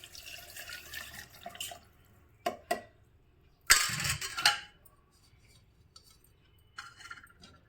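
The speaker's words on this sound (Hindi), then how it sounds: "हम छन्नी की सहायता से पानी को छान लेते हैं" Almond soaking water is strained through a sieve with a few splashy pours and trickles, the loudest burst coming midway between quieter drips. Close and fairly faint, with no talking.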